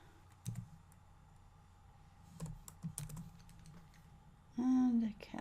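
Scattered keystrokes on a computer keyboard while entering a value into a spreadsheet formula, a handful of sparse clicks close by over a quiet hum, ending with a brief louder tonal sound.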